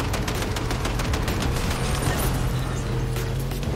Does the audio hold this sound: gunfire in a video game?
yes